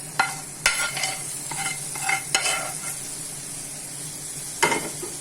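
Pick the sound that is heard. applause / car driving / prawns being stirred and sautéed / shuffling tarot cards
prawns being stirred and sautéed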